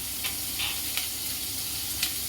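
Green chillies and mustard seeds sizzle steadily in hot oil in a pan, a close, even frying hiss with a few faint clinks of stirring, and no one talking.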